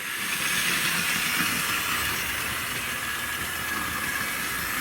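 A vintage 1960s Hornby Dublo model steam locomotive runs light on its track with no carriages after decades in storage, giving a steady, fairly quiet whirring hiss that carries on unbroken with no talking.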